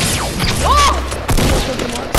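Hunter rifle shots crack in Fortnite amid a burst of sharp game gunfire and thuds, close and loud, over other game sounds with a voice mixed in.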